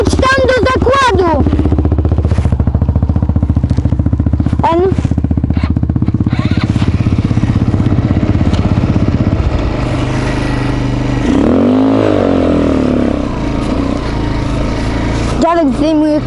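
A Kayo 180 motorcycle being ridden revs and rumbles loudly and close, its engine pitch rising and falling in repeated surges with some clattering, while people talk over it.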